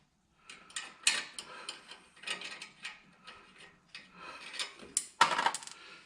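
Small metal clatters and rattles while fitting the nuts and clamp of a car exhaust hanger, a series of scattered clinks ending in a sharper drop, quiet and close without speech.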